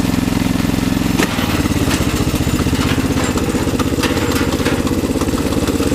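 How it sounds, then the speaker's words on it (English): A riding lawn mower engine idles high, a loud, steady mechanical chugging with a rapid even pulse close by, a brief clank early on, then the rough hum continuing with light rattles. "See, it's idling kind of high."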